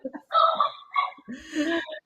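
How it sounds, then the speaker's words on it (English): Dogs bark and yip in a short, agitated burst, fairly close, with whining tones between the barks. "my dogs are barking in the background. You can hear that."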